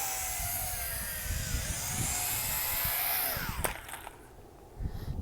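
A Tarantula X6 quadcopter fitted with a spotlight whines loudly as it descends to land, its rotor buzz shifting in pitch before dropping away after touchdown, with some clattering noise underneath.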